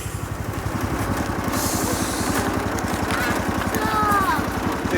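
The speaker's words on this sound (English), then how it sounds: "The little red tractor's out." A little red tractor engine runs steadily close by, its low, even chugging pulse holding throughout on a farm with hay in the air.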